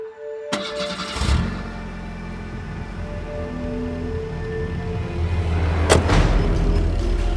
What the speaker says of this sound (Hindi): गाड़ी स्टार्ट होने की आवाज आ रही है।